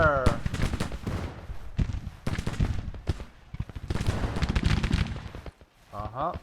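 Rifle volleys crack in a Civil War battle game set at Richmond, with repeated gunfire bursts under nearly continuous talk and shouting.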